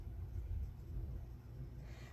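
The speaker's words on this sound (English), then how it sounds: "That thunder is rumbling." Thunder rumbling, a low continuous deep roll that stays steady and moderately loud throughout with no speech over it.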